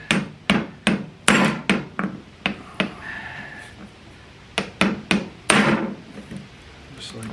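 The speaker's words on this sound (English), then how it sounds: "Gonna give it a couple of smacks." Repeated sharp smacks on a Briggs & Stratton Intek carburetor set down on a surface to free it up, a quick series of knocks, a pause, then another burst of blows, close and loud.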